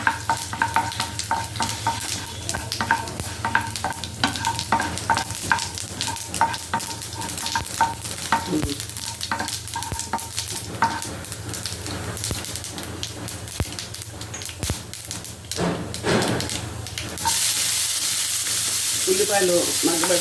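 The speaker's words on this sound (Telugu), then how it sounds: "కొంచెం ఆయిల్ హీట్ ఎక్కాక మినపప్పు, ఆవాలు, జీలకర్ర వేస్తున్నాను తాలింపుకి." Urad dal, mustard seeds and cumin fry in hot oil for a tempering, crackling and sizzling loudly up close with stirring scrapes, the sizzle swelling into a stronger hiss toward the end.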